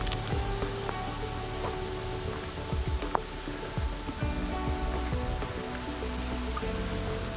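River water rushing over waterfalls near a state park trail in Tennessee, a continuous soft roar with scattered splashes, faint and somewhat distant.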